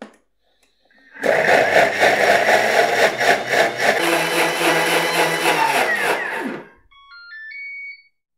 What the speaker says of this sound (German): Jetzt ein Thermomix aber erst einmal für 20 Sekunden lang auf Stufe 10 stellen